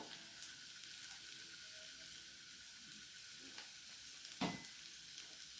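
Spices fry in a pan for banana-flower chops, a steady close sizzle with occasional scraping strokes from stirring.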